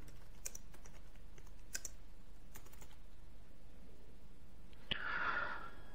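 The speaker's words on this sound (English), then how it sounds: "Ovdje sad kucam sudo šifru" Computer keyboard keys tapped while entering a sudo password on a Linux machine, a few quiet scattered clicks in short bursts, close up in a still room with no talking.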